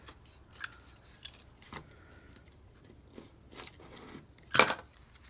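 Scissors snipping through cardboard for a cardboard crankshaft automata, a few quiet, sparse clicks and crunches ending in one sharper, louder cut near the close.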